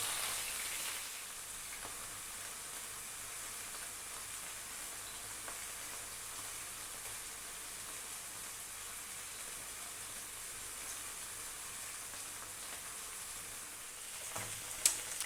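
Garlic lemon chicken frying in olive oil with garlic, turned in the pan as it browns, gives a steady, moderate sizzle close by for a long stretch, ending in a short clatter.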